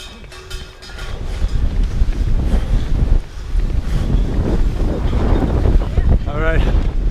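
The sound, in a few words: wind blowing into microphone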